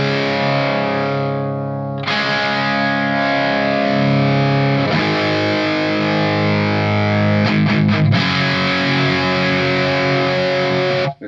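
Electric guitar plays loud, heavily overdriven sustained chords through a Marshall 1959HW Super Lead 100W tube amp cranked with everything on 10, ringing out with a couple of brief breaks and a quick strummed flurry near the end.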